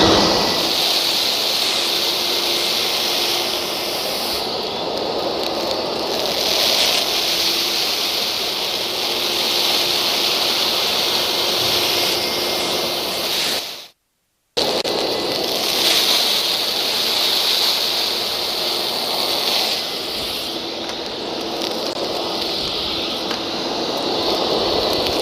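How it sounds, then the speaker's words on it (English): VacPro vacuum unit firing an air shock to blow dust off a tight-fitting pocket filter: a loud, steady rushing blast of air that runs the whole time apart from one brief silent gap midway. "This is the air shock effect, which has as a consequence that the filter will open up, will blow up"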